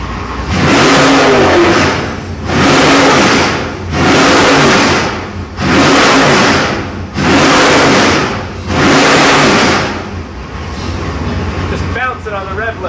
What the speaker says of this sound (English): Just bouncing on the rev limiter.